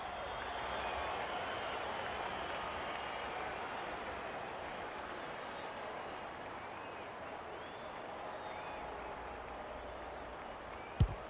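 Crowd applause and cheering rise from the stands during an AFL match in the AFL 26 video game, a steady, fairly distant roar of clapping running throughout, ending in a sharp thud.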